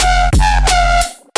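Harmonically rich jump-up screech bass synth notes played without any legato portamento slide, each pitch jumping abruptly, loud and sustained with a brief gap and a cut-off near the end.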